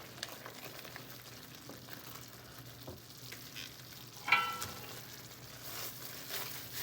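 Low-carb shrimp alfredo sauce, just seasoned with salt and pepper, is stirred in a pan with a soft sizzle, faint scraping, and a few louder utensil knocks.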